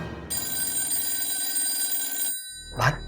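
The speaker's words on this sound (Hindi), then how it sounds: "अरे ये फोन कब से बज रहा है, कोई उठाता क्यों नहीं?" A telephone bell rings steadily and fairly loud for about two seconds in a domestic drama scene, then stops, followed by a short single ring burst.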